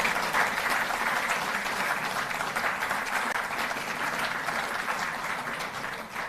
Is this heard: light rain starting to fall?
no